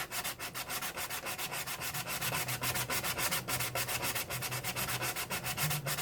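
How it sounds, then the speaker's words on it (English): Rapid, rhythmic hand sanding of a plastic RC car body (Losi 5IVE-B) scrapes back and forth in quick even strokes, close and fairly loud, with no voices. "especially when it comes to the sanding"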